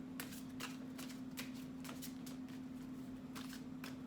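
Tarot cards are mixed in a run of quick, papery riffles and taps repeating at a loose, steady rhythm, close and fairly quiet over a constant low hum, with no speech.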